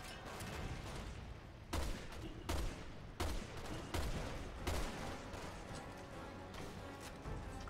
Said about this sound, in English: He's throwing grenades.